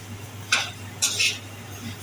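Fennel seeds lightly roasting and being stirred in a pan, two short scraping, rattling bursts with quiet gaps between.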